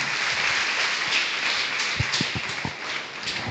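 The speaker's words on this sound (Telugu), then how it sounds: "గట్టిగా చప్పట్లు కొడదాం" A congregation at a Sunday church service claps loudly together, a dense, steady wash of hand claps that fills the whole moment without any talking.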